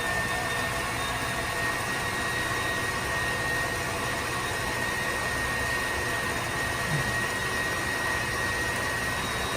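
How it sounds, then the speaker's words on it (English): Electric mixer whipping egg yolks toward ribbon stage for chocolate mousse, a constant loud motor whir with a thin steady whine that holds unchanged from start to finish. "we're going to have to put it in a mixer. And this will get a little loud"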